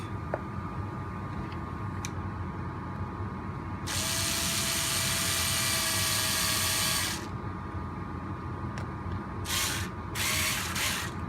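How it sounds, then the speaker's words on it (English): Electric driver sending a couple of screws into an RC beadlock wheel rim for a Traxxas 1.9 crawler tire, two bursts of steady whirring, a long one then shorter stuttered runs, close and loud with no talking. "Just put in a couple screws to start everything off."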